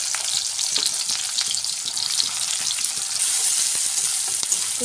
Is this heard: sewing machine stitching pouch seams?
no